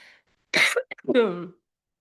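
A single person coughs up close, a rough burst followed by a short throaty hack, then silence.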